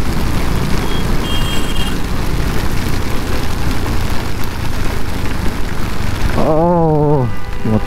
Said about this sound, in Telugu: పెద్ద వర్షం తోటి గ్రాండ్ వెల్కమ్ చెప్తుంది.